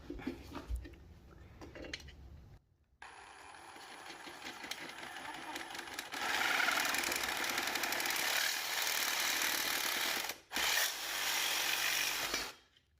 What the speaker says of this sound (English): You can just use a hacksaw. I have this hacksaw.